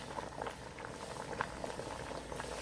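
A pot of rice and pigeon with onion and tomato simmers on the stove, a soft continuous bubbling and popping close by, steady and fairly quiet with no voices.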